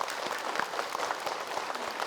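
A studio audience, mostly women, applauds to welcome a guest onto an Indonesian talk show, a moderate, continuous patter of many hands with a few sharper claps standing out.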